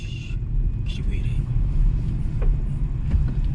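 A Kia Morning Urban light car drives at night over a rain-damaged road with potholes, giving a steady low cabin rumble with faint thumps from the road surface, while someone talks over it.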